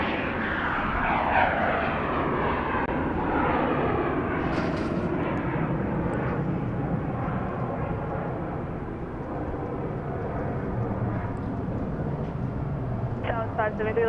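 Passenger jet taking off at Dallas Love Field, a loud sustained engine roar with a slowly shifting whine across the whole stretch, heard from the airport perimeter with a brief faint sound near the end.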